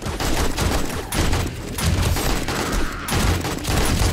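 Rapid AK rifle fire in the video game 7 Days to Die, dense bursts of automatic gunshots with brief pauses between them, loud and close.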